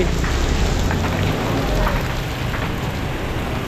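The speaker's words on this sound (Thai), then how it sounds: "ฝนก็ยังไม่หยุดสักที" Steady rain falls in Hanoi, a dense, even hiss of drops spread across the whole stretch, loud and close, with no voices heard.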